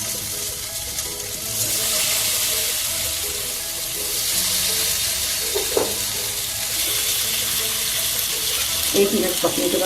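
Marinated potatoes dry roasting in a lightly greased pan give off a steady, close sizzling hiss that runs the whole time, with a few brief clinks and stirring noises near the end.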